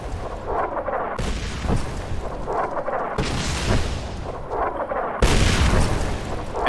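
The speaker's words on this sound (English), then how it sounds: "Jesus Christ, that is blowing up so loud" An artillery barrage in Fallout New Vegas booms in heavy, loud explosions that roll into one another, with three big blasts that crash in and then rumble and fade.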